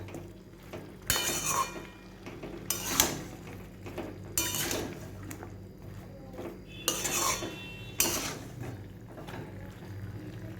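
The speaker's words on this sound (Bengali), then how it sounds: "এবার আমি এর মধ্যে এই ঝিঙে আর বেগুনটা দিয়ে দেবো। এটাও একটু ভালো করে মিশিয়ে নেব।" A metal spatula scrapes and clinks in a pan while ridge gourd and eggplant are stirred, in several separate bursts a second or two apart over a quiet kitchen background.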